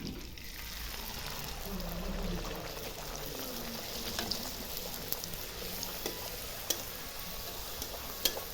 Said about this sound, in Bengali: কড়াই তেল আমার দিয়েছি গরম হয়ে গেছে সাদা তেল এখন লুচিটা ছেড়ে দিচ্ছি